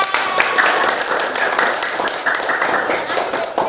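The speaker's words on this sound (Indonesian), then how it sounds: "Tepuk tangan untuk Mbak Dinda." Classroom applause for a student, a lively continuous clapping from many hands, close and steady, with some voices mixed in.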